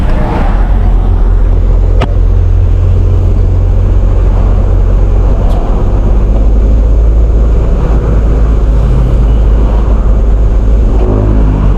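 Steady road traffic heard from inside a slow-moving vehicle heading home through a hot provincial town in Nueva Ecija, Philippines, a constant low engine and tire rumble with passing cars, loud and continuous with no talk.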